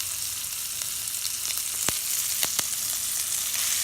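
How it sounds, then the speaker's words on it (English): Steak sears in a hot cast iron pan with butter, garlic and herbs, giving a steady, close sizzle broken by a few sharp pops and crackles, with no voices. "I'll continue to put more butter in the pan, and I'll add some garlic and I'll add some herbs"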